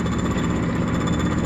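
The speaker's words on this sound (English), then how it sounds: "I'm going to drill it now. This drill is spinning really fast." Electric drill spinning fast while boring a hole for a license plate mount on a side-by-side UTV, a steady loud rattling grind held throughout, close up.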